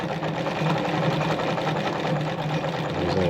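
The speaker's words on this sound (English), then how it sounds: "Now I'm using 5 here and I just do a couple of stitch." A Singer sewing machine (models 306K, 319K or 306M) runs steadily while stitching a buttonhole, its close, even mechanical whir continuous and fairly loud with no talking.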